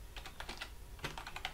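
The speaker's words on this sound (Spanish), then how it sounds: "tengo el teclado este un poquito malo también" Keystrokes on a somewhat faulty computer keyboard in need of cleaning, tapped in two quick bursts of irregular clicks with a short pause between, fairly faint and close with no talk.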